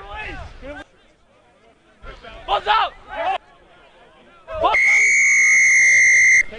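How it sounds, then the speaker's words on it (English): Referee's penalty whistle at a men's collegiate rugby match between Duke and NC State, one long, loud, steady shrill blast that follows crowd noise and brief talk on the field. "Got a penalty whistle."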